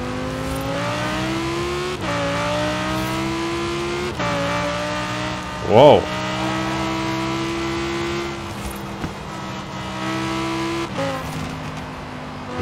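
Car engine from the racing game Forza Horizon 4 revving with strong steady harmonics, shifting pitch at gear changes around every two seconds, with one sharp loud rev spike midway; a brief exclamation is heard over it.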